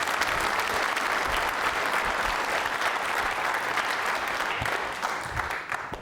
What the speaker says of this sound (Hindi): तालियां जोरों से बजाइए रोहित साहब के लिए